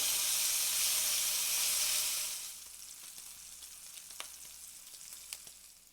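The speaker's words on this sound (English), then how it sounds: "I'm going to fry this up till it's nice and crispy" Bacon fries in a pan, a loud, dense sizzle that drops to a quieter crackle with scattered pops after a couple of seconds; no voices.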